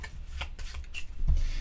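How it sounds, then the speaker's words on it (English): A deck of board game cards for Baseball Highlights 2045 being shuffled up close, a quick run of papery riffling and rubbing that builds to a louder burst near the end, with no talking. "We're going to just quickly shuffle these up one more time."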